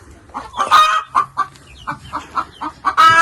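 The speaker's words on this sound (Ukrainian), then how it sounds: "не будемо заважати, бо кури хвилюється, хай несуть нам яйця" Hens cluck close by in short, repeated bursts, with a few louder squawks at the start and end.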